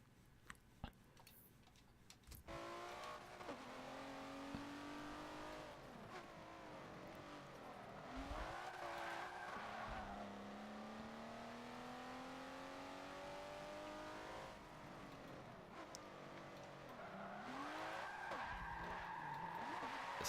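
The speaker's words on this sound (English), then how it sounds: "It's got like turbos on it or something too. I can hear turbos." A turbocharged race car in Forza Motorsport 7 revs through sweeping rises and falls in pitch while its tires skid and squeal, with no voices.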